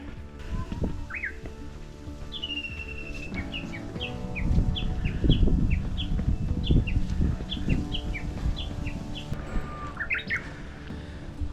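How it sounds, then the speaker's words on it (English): A Japanese bush warbler sings nearby on Akita Komagatake at the edge of the southern caldera: a long whistled note, then a quick run of repeated chirps over a low rumble of wind and footsteps. "Listen to that bush warbler."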